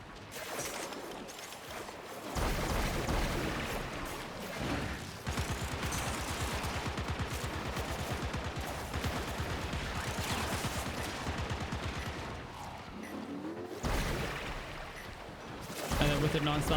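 Rapid automatic gunfire from the video game Warframe, a dense sustained stream of shots with brief pauses, loud and continuous, with a voice talking over it.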